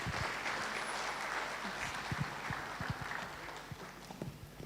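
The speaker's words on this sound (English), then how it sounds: "A round of applause as Nabiha comes in" Audience at a graduation ceremony applauding as a speaker comes up, a sustained patter of clapping heard at moderate distance with scattered louder individual claps.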